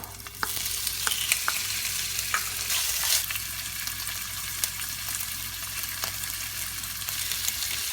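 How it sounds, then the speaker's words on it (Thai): Pork stir-frying in a pan with garlic and onion, a steady hiss of sizzling oil broken by sharp ticks and scrapes of the spatula as the meat is tossed, close and continuous. "จากนั้นก็ใส่หมูลงไปผัดค่ะ"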